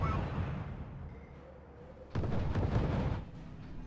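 Artillery fire in the strategy game R.U.S.E, a low rumbling barrage that swells into a louder burst of booms partway through, then tails off.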